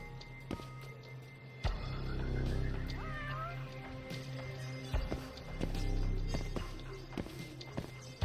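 A cat meows a few times in the video game Judgment, with faint, rising cries in the middle over steady background game ambience and footstep-like taps.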